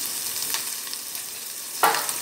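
Steady sizzling of onion and capsicum frying in hot oil, with a few stirring scrapes and a brief louder clatter near the end.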